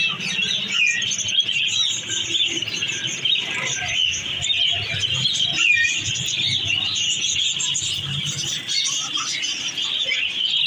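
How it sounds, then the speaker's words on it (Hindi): A dense chorus of chirping and tweeting from many birds, including parrots and pigeons, fills a caged bird market, continuous and close throughout. "कितनी वैरायटियां कितने खूबसूरत परिंदे बोलते"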